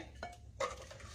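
A spoon stirs cream style corn in a pot, giving two quiet metallic scrapes and clinks against the pot's side, close by and alone.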